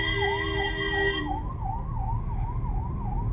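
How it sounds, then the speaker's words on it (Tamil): An ambulance siren wails in a town street, its rising and falling tone cycling steadily and close over traffic rumble, joined briefly at first by a second steady horn-like tone. "இந்த பகுதி ஆம்புலன்ஸ் போகுது"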